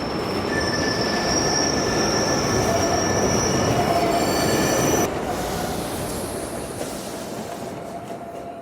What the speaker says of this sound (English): let's get back on the train from Geelong to Melbourne.